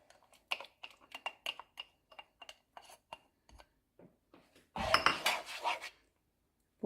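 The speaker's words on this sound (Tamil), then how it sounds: "அதை இந்த பேனில் போட்டுடலாம்." Ground tomato paste goes into a cooking pan while making kadai paneer. A few light clinks of utensils against cookware lead into a short, loud burst of scraping and sizzling near the end.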